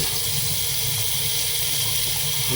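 Water gushing from a new kitchen mixer tap bought on AliExpress, a loud, steady hissing stream pouring close by with no talking.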